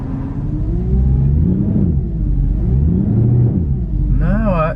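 A salvage Mercedes C63 with a fault is revved close by, its deep engine note rising and falling in a few uneven surges over a steady rumble, with a brief higher warbling tone at the end.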